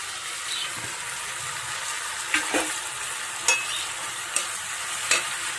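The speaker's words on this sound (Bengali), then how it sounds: "এই অবস্থায় আমি ভাজা মাছগুলো দিয়ে দেবো।" Fried tangra fish being stirred into a tomato and onion-stalk gravy makes a continuous soft sizzle, broken by several sharp spoon scrapes and clinks against the pan.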